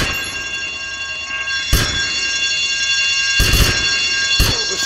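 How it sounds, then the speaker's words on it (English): An alarm rings in GTA Vice City, a loud, steady high-pitched electronic tone sustained throughout, broken by a few short bursts of heavy impact noise, with no one speaking. "I told you not to touch that alarm!"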